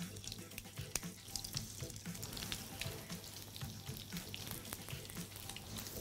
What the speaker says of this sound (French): On va cuire ça dans une poêle bien chaude et on va poser délicatement côté peau le poisson.